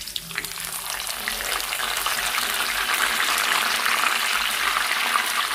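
Green chillies, mint and coriander sizzle and fry in a pan for curry, a steady close hiss that swells slightly and continues throughout, with no talking.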